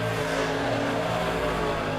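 USRA B-Mod race cars in a heat race at Monett Motor Speedway, a continuous engine roar with layered droning tones as the pack runs the dirt oval.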